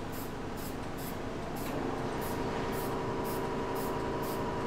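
Epoxy paint is sprayed onto an appliance in repeated short hissing bursts, close and fairly loud, over the continuous hum of a ventilation fan, with no talking.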